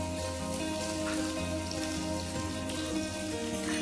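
Onions frying in oil in a pan for chicken ghugni, giving a steady, dense sizzle that runs unbroken throughout with no voices.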